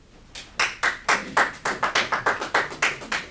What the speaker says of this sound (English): We're going to hold off on the applause, please